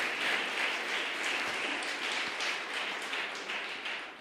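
A church congregation applauds in praise of the Lord, steady even clapping heard from a slight distance with no speech over it.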